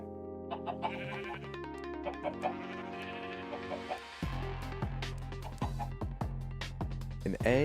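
Chickens in the Minecraft SkyFactory 3 modpack, clucking in short repeated calls mixed with other farm animal bleats over looping game music, with someone talking now and then.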